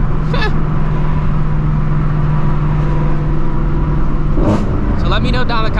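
A straight-pipe Shelby GT350 drones loudly and continuously on the highway from inside the cabin, with a couple of brief sharper noises over the engine and no clear revving.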